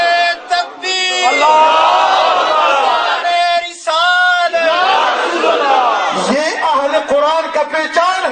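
Crowd at a rohani mehfil in Attock roaring a religious slogan back in unison after a leader's call, loud massed voices swelling and overlapping for several seconds.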